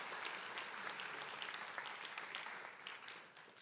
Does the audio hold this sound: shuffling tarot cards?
no